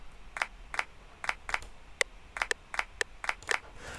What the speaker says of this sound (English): Here I wanted to make something like these claps. It's just a one shot.